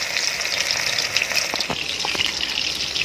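Anchovies (nethili) for fish 65 fry in hot oil with a steady, close sizzle and crackle, broken by a few sharper pops and bursts throughout.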